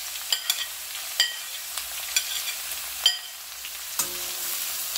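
Two large onions sautéing in a pan for a South Indian drumstick (moringa) fry, with steady sizzling and sharp intermittent clicks and scrapes of a spoon stirring, close and fairly quiet with no talking.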